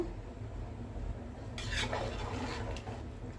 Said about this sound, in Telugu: రైస్ వేసాను కదా ఒకసారి కలుపుదాం